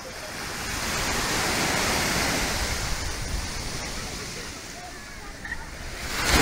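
Sea waves break and wash onto a sandy Baltic beach at Zelenogradsk, a broad rushing surf that swells and recedes, with some wind noise on the microphone.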